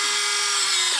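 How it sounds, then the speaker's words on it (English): A power drill bores a hole near the corner of a workpiece, giving a loud, steady high whine that holds for about a second and then slows at the end. "I'm going to drill a hole right here on this corner and down a little bit below it"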